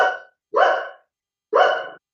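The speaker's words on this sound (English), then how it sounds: "Oh dear Lord, here go the dogs." Dogs at a rural home bark three times at a truck coming down the road: a short bark, then two louder, fuller barks about a second apart, close by with no talk over them.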